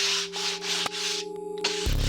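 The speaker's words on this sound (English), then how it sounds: "So much that I can sand them together." Sculpture rails are sanded together by hand, making close, steady rasping strokes in a rhythmic back-and-forth pattern over a faint constant hum, with no voices.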